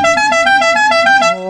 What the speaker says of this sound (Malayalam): രണ്ട് ടൈപ്പ് എയർ ഹോൺ ഉണ്ടല്ലേ